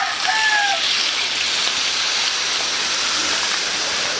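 Water splashes into a cooking pot while squid menudo is prepared, a continuous hissing pour at steady volume from start to finish, with a brief faint squeak early on.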